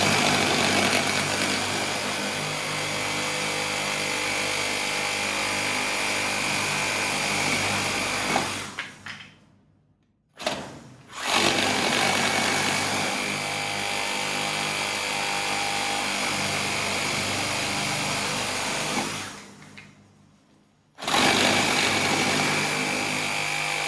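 Makita XGT 36V cordless reciprocating saw cutting through a treated 4x4 post, a loud, continuous buzzing drone close by that cuts out twice, with brief silences before it restarts, and no talking.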